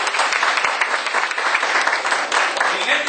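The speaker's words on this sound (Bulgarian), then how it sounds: "Ръкопляскайте за Господа." A church congregation in Nicosia, Cyprus claps together in a dense, steady burst of applause that fills the room, with voices mixed into the clapping.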